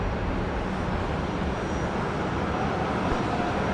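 Airbus A350 jet of China Airlines landing at Brisbane Airport, heard as a continuous broadband roar of engines and rushing air that stays loud and steady throughout, with no talking.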